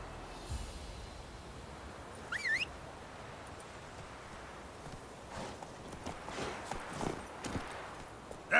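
Roach the horse trots through the Witcher 3 world, hooves clip-clopping in an uneven rhythm at moderate distance, with a snort and a few soft bird calls over quiet ambient sound.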